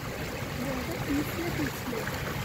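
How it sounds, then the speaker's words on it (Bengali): Clear water flows from a fountain-like feature at Canary Wharf in London, a steady soft rushing stream, with a voice speaking over it. "একদম পরিষ্কার জল"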